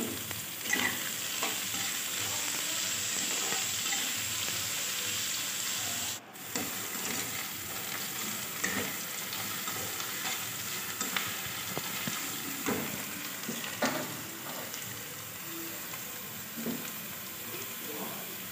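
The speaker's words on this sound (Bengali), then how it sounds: "আলুটা একটু ভালো করে ভেজে নেব" Sliced potato and onion fry in a pan as part of an egg fried rice, with a moderate continuous sizzle under repeated scraping strokes of a spatula stirring the pieces. Faint background noises come and go. No voices are heard.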